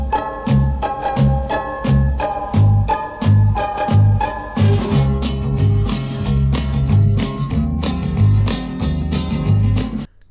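An instrumental backing track with the vocals stripped out of a song plays on its own: a steady, rhythmic groove with a pulsing beat and sustained harmonic parts that runs continuously and loudly throughout, with no voice.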